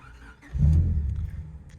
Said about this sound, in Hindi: तो आइए चेक करते हैं हमारी जो गाड़ी है अब फर्स्ट स्टार्ट होती है कि नहीं